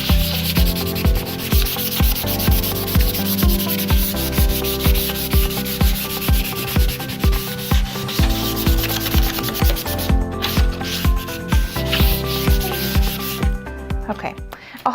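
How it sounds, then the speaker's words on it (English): A door gets a light scuff sanding by hand with 220 grit sandpaper, heard as a close, steady run of rhythmic back-and-forth rasping strokes over a constant tonal hum. "This is just a scuff sanding with 220 grit sandpaper."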